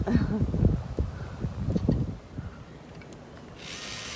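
Someone scrapes old adhesive off a car windshield frame during a front windshield replacement, giving rough, uneven scraping strokes close by that fade into a softer steady hiss near the end.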